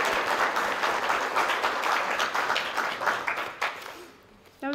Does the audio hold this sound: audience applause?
yes